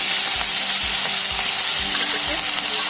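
Shrimp sizzling and frying in a pan with turmeric and salt, a steady loud crackle with a soft stirring scrape repeating about every half second.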